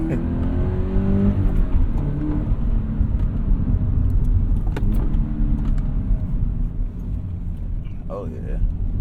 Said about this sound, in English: Downshifting so good.